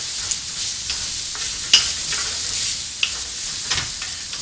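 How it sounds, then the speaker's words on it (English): Rehydrated morel mushrooms are stirred into a risotto, with a soft, steady sizzle under scattered spoon scrapes and taps against the pot. The sound is close, moderately quiet and has no talk. "we're going to add these because the morels have already been rehydrated, so they don't need to cook very much"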